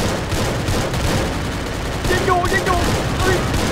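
Gunfire rattles in a Free Fire battle-royale match, a dense burst of shots with a brief ringing effect near the end, all loud and close in the game mix.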